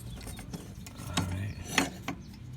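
Close ratcheting and clicking of a hand tool working a screw loose from a Troy-Bilt TB110 lawn mower blade, a handful of short metallic clicks and scrapes, fairly faint.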